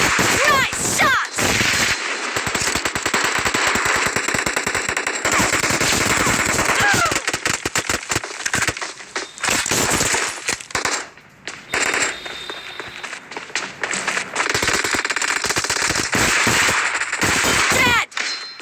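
M1014 shotgun fire in a Battlegrounds Mobile India arena fight rings out as dense, rapid bursts of loud shots and metallic clangs, nearly continuous with brief gaps and scattered game effects.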